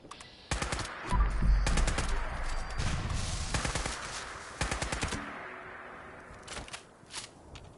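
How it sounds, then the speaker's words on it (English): Short bursts of automatic gunfire from a rifle in the online video game Fallout 76, several rapid volleys separated by brief pauses, moderately loud over faint ambient game sound. "I like it automatic, but I burst fire it."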